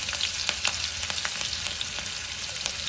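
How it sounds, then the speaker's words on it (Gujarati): Asafoetida, green chillies and curry leaves hit hot oil with garlic already browned, crackling and sizzling loudly and continuously with sharp popping spits up close. "હવે હિંગ નાખીશું લીલા મરચાં નાખીશું મીઠો લીમડો નાખીશું"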